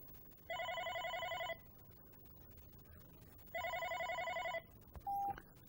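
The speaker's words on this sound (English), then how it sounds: "So, as I wait for the incoming call," A Unify OpenStage desk phone rings with an incoming call: two electronic ring bursts, each about a second long, separated by a quiet gap, followed by a short tone, clear and close in a quiet room.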